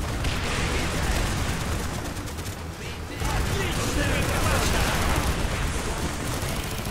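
Constant, dense gunfire and explosions in the video game Call of Duty: Black Ops, during a Vietnam escape mission, with rapid overlapping shots that briefly thin out before surging loud again.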